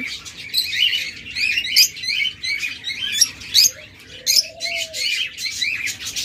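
A tame pet lovebird, sold among cockatiels, budgerigars and doves, chirps in quick, bright bursts, repeated steadily and close by, with a faint sliding whistle partway through.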